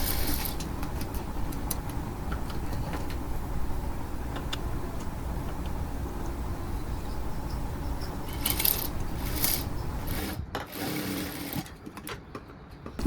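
A sewing machine stitching a girl's kurti top runs in a steady, fast mechanical whir with ticking, then stops near the end with a few faint clicks.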